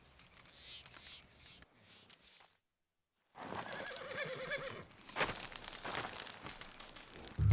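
Horse neighs and whinnies from the Red Dead Redemption 2 video game, followed after a brief silence by steady clip-clopping hooves and more whinnying, fairly close and moderately loud with no talk.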